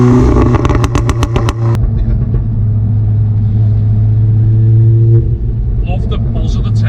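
A Revo stage 3 tuned VW Golf R rumbles close by, a run of sharp overrun crackles and pops at the start, then a deep steady exhaust drone from inside the car.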